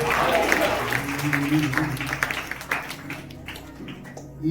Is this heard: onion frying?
no